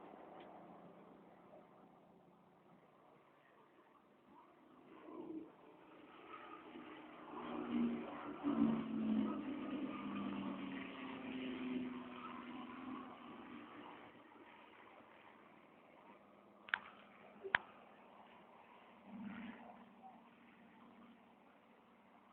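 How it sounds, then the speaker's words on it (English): Four Rolls-Royce Merlin engines of a Lancaster and a Rolls-Royce Griffon engine of a Spitfire flying past in trail, a broad droning roar that swells from a distant rumble to a peak and then fades away, with a couple of sharp clicks near the end. "enjoy the combined sound of the four Rolls-Royce Merlins and the one Rolls-Royce Griffon engine as they fly by in trail"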